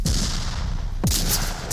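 Grenade detonation in the Onward VR video game during a competitive match: steady ambient game noise, then a sharp sudden blast about a second in with a bright crackling tail, followed by a further burst near the end.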